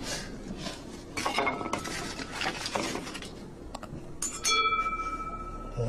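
Old dishes and chopsticks being handled in an abandoned house in Japan, giving bright ceramic clinks, light taps and scraping rattles at close range. Near the end there are ringing chinks, and no one speaks.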